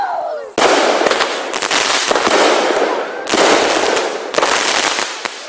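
A 19-shot firework cake called the machine gun fires at a Fourth of July show, with loud, crackling bursts in quick succession and brief gaps between volleys.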